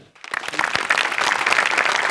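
A crowd breaks into applause after a brief quiet start, the clapping swelling quickly and staying dense and steady to the end.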